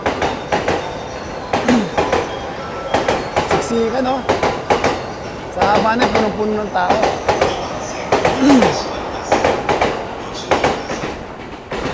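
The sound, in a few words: train passing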